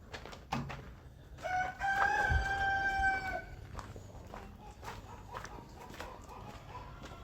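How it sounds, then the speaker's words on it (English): A grouchy farm rooster crows once, loud and close, among chickens and ducks, a long harmonic call over scattered clucks and yard bustle. "The next very demanding animal would be our chickens and ducks, and our grouchy rooster."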